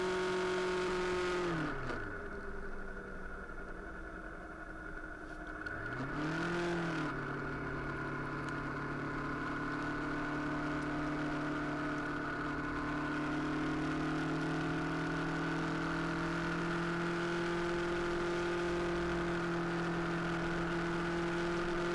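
Two cars whoosh past in quick succession early on a highway, followed by a long steady engine hum and wind rush of a sport bike continuing to ride.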